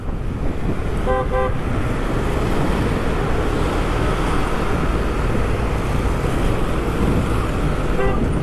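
Car horns honk twice, a short rapid burst near the start and another at the end, over steady loud traffic noise.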